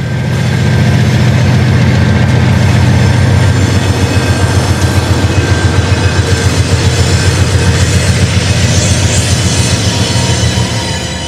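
CSX office car train rolling on the rails, a loud continuous rumble with rhythmic wheel clatter over joints and a steady engine drone, sustained throughout.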